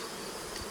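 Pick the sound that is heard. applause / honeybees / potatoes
honeybees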